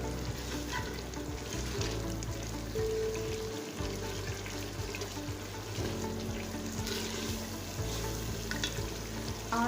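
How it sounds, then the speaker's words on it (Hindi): Masala spices fry in a cupful of oil for daigi chole, a loud, continuous close sizzle with crackling bubbles that runs the whole time without talk. "अब हम अच्छे तरीके से अपने मसाले को भून"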